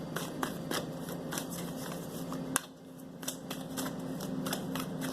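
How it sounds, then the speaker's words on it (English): Tarot cards are riffled and shuffled in quick, crisp bursts of flutters and snaps, with soft handling noise between them, close and fairly quiet. "Give it a quick shuffle."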